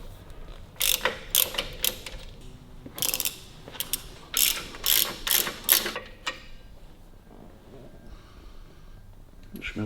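A ratchet clicks in quick bursts while loosening bolts on the cylinder head of a 1942 Harley-Davidson Model U, several close, sharp runs of ratcheting separated by short pauses, with no talking.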